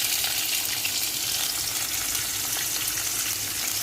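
Cumin seeds and onion frying in hot oil in a pan, a loud, dense, continuous sizzle close up with faint stirring underneath and no voices.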